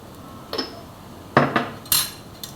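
A spoon scraping and clinking against a pan while sabudana khichdi is stirred, several separate metallic knocks and scrapes, close and fairly quiet, with no talking.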